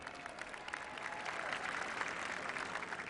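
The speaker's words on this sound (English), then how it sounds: "A nice round of applause for them." A sustained round of audience applause at a celebration honoring the New York Giants, steady and fairly distant, a dense wash of clapping holding for the full stretch without voices on top.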